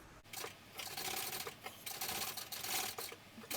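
A sewing machine stitches fabric for a baby sling in quick, quiet bursts of rapid mechanical clatter separated by short pauses.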